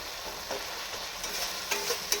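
Spice paste frying in a pan for a fig (dumur) vegetable curry gives a soft, steady sizzle, broken now and then by light scraping of stirring, fairly faint and with no talking.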